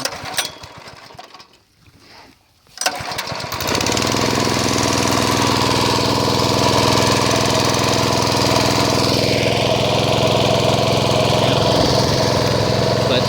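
A gas-powered water pump engine is started after a few quiet seconds of handling, then catches and runs steadily at raised throttle, a loud continuous close-up drone with a rough knocking texture.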